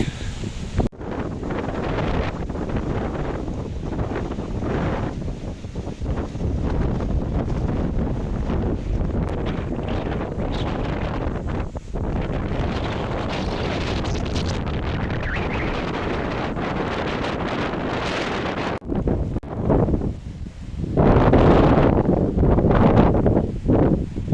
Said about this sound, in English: it's really windy, so when I walk around the corner here it's going to get pretty loud